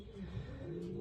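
Racing pigeons in a loft give a soft, low coo, faint and brief, with a little background noise.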